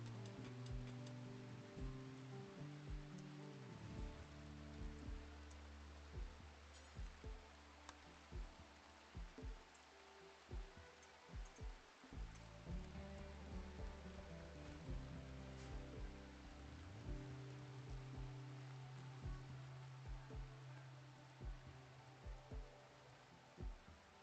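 Steady rain falls in the colony-building game RimWorld, a soft continuous patter with scattered ticking drops over a constant low musical drone, with no talking.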